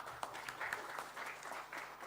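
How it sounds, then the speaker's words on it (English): Brief, faint audience applause at a New Delhi sustainable energy conference, a scattered patter of clapping in a large room. "A huge round of applause for him"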